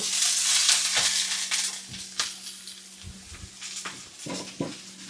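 Ginger and garlic frying in a pan give a steady hiss, broken by occasional scraping stirs. No talk is heard over the sizzling.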